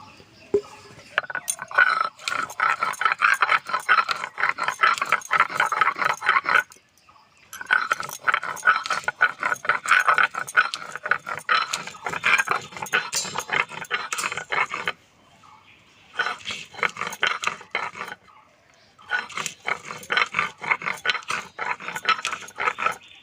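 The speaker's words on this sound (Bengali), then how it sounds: "পটলের এই দানাগুলো বেটে নেব।" Pointed gourd seeds being ground into a paste, likely on a grinding stone: a steady rough scraping and rattling that runs in long bursts with short pauses between strokes, close up and loud, with no talk.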